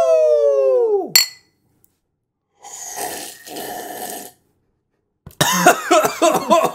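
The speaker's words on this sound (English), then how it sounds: "I coughed because I started laughing at you." A couple of harsh, bursting coughs with pauses between them, close by, followed by a sputtering, laughing fit.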